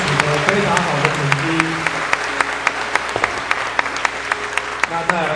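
Loud, dense applause from a concert audience at a school band's summer performance, sustained clapping at a steady level throughout, with a few sharper individual claps standing out.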